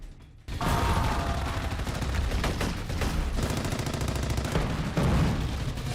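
Gunfire during a Naxal encounter with CRPF troops in the dense forest near Burkapal village, Sukma: after a brief quiet start, dense rapid automatic and single shots crackle continuously, loud and unbroken for several seconds.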